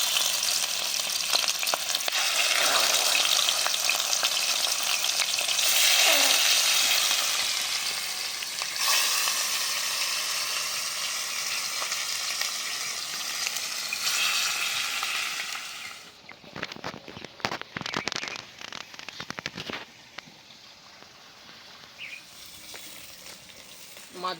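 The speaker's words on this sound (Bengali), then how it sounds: "এবার মাছগুলো ভেজে নেব।" Catla fish frying in mustard oil in a wok gives a loud, close, continuous sizzle that fades after a while into softer, intermittent crackles and stirring scrapes.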